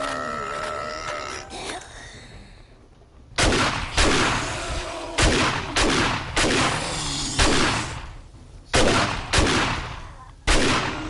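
Shotgun blasts in the survival game 7 Days to Die during a maxed-out shotgun blood-moon horde night, about eight loud, close booming shots in an irregular rhythm, each with a short rumbling tail, following a quieter stretch of game noise.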